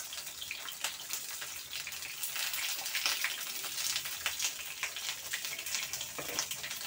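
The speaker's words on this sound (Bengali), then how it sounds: "এবার এই বেগুনগুলো এখানে এরকমভাবে ভাজা হবে।" Brinjal slices fry in a pan with a steady, loud hiss and crackle of spattering oil, broken by brief sharper pops throughout.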